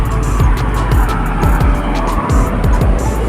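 Motorcycle sidecars pass close by on a road one after another, each engine note rising and falling quickly in a steady run of buzzing passes, loud and near.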